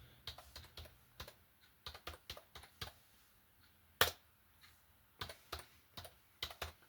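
Typing on a laptop keyboard, a steady patter of clustered key clicks and one sharper, heavier strike near the middle, close up and alone with no talk.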